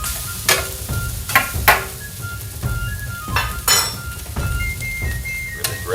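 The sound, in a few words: garlic and rice cooking on Vevor electric flat top griddle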